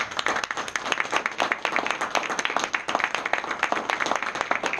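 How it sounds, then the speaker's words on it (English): Dense, lively applause from a small audience at a business meeting, many hands clapping rapidly and close by in a continuous burst lasting a few seconds. "give Janice a round of applause"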